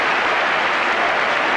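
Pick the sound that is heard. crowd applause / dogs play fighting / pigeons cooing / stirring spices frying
crowd applause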